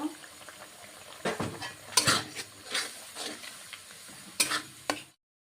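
Fish curry with gandho bhadali leaves frying in a pan, a soft sizzle under repeated scraping and clinking strokes of a spoon against the metal, close and fairly quiet.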